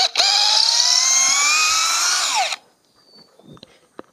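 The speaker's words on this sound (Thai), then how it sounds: "ก็เจาะเข้าไปในไม้นี่คือจมเข้าไปเลยนะครับ" An IMAX IMCD-20BL cordless drill bores into wood with a loud, steady high-pitched whine for about two and a half seconds. The pitch drops as it stops, followed by faint handling clicks.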